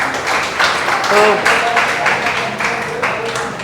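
An audience at a school motivation talk claps to welcome a guest speaker, a sustained wash of applause running under a voice throughout.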